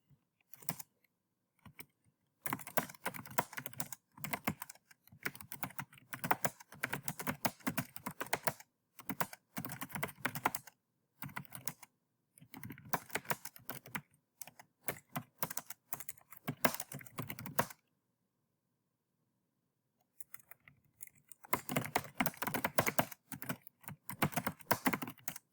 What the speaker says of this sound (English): So I've typed in my message.